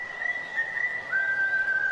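A single person whistles a clear, steady tone close by, sliding to a slightly lower pitch midway and holding it, with no talking over it.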